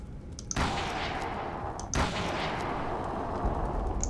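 Two loud gunshots from a firearm in the Call of Cthulhu game, spaced over a second apart, each a sharp crack trailed by a lingering reverberant tail over a low steady background.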